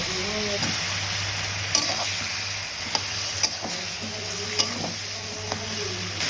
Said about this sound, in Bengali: দিয়ে দেবো কেটে রাখা বেগুন